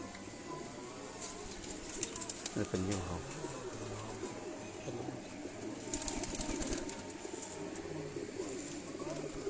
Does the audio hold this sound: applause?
no